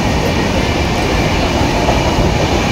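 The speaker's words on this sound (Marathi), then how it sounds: "शताब्दी एक्सप्रेसने आम्ही चाललो आहे।" Shatabdi Express running on the Konkan Railway in the monsoon, heard from on board as a loud, constant rumble and roar of wheels and carriages with faint rhythmic clatter.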